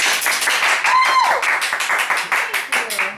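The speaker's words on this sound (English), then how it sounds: "Let's give her a round of applause." A studio audience on a cooking show claps steadily for an arriving guest, a dense, even patter of many hands at close range that gradually thins out, with a voice briefly calling out over it.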